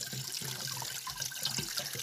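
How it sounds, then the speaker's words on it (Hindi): A natural spring in a Pauri Garhwal village in Uttarakhand pushes water up out of the ground, making a faint, steady trickling and splashing at close range. "तो जो पानी नीचे दबा हुआ था वो यहाँ से ऐसे आ रहा है"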